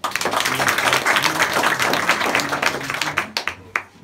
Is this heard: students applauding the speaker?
yes